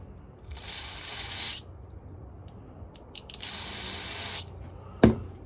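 Two sustained hissing bursts of carb cleaner are sprayed inside the carburetor of a Poulan 3400 chainsaw, each lasting about a second, followed by a short sharp tap, close up in a quiet room.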